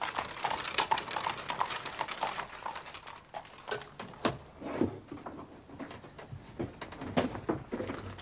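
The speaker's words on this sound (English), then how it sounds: "A horse and carriage." Horse and carriage clip-clopping at a steady walking pace, a series of hoof knocks mixed with rattling and creaking, fairly close but not loud, with no talk over it.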